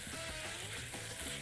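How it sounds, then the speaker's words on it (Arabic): Minced meat seasoned with salt, black pepper and nutmeg fries in a pan with a steady, close sizzle that holds level throughout, with no voices over it. "تمام كده هحمر في النص هنا بقى كده"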